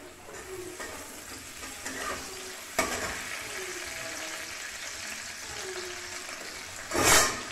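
Chopped onion fries in a little oil in a hot wok, giving a steady close sizzle and crackle with occasional scraping stirs, then a louder hissing burst near the end.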